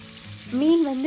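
Marinated fish sizzles quietly in a frying pan with a soft, steady crackle, joined midway by a louder wavering tonal hum.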